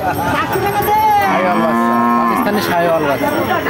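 A cow at a cattle market moos loudly and close, one long drawn-out bellow rising and falling over busy market noise.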